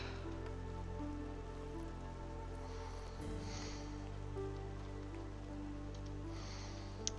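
Light drizzle falling in the Against the Storm video game, a steady, even patter of rain spread across the whole stretch with faint scattered drops, continuous and moderately loud with no talk over it.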